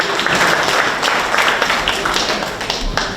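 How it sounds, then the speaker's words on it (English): A crowd at a town hall meeting breaks into dense, loud applause, a continuous wash of clapping from many hands. "A loud round of applause for Mr. Tevin Andrews."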